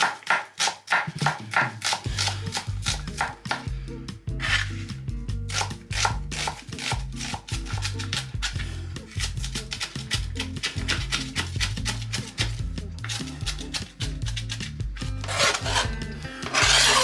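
Pepper being ground by hand over a bowl of pork mince for patties, a steady run of close, dry rasping grinds with a fast repeating rhythm that carries on at an even loudness.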